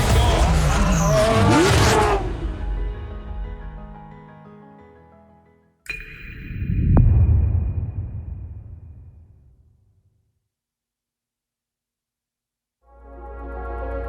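Race cars in Forza Motorsport scream past with loud tire squeal and skidding, then fade; a sharp hit opens a second roaring pass that dies away into silence before another low engine swell returns.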